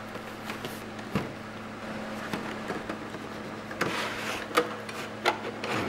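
Unboxing a Cooler Master Hyper 212 Plus CPU cooler: a steady low hum underlies rustling, rubbing cardboard and plastic handling with several sharp clicks and crinkles close by.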